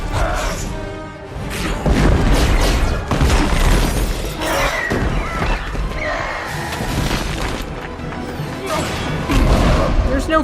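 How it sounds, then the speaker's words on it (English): Hulk from an Avengers film smashing his surroundings: loud, dense crashes, shatters and heavy impacts pile up over a full score, with a few brief voices mixed under the chaos. "There's just smashing. Lots and lots of smashing."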